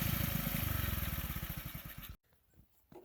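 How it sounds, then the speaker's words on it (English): The 90cc engine of a pit bike runs at a loud, close, pulsing idle for about two seconds, then cuts off abruptly, leaving faint clicks in near silence. "So it runs now. Idle's fine."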